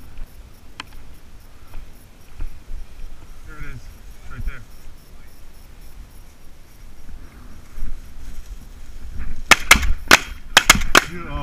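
Shotgun shots ring out during a chukar hunt, a few sharp, loud blasts clustered near the end, with people talking and a dog being called before them.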